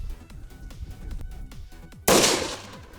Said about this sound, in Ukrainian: Зараз буде мікропідрив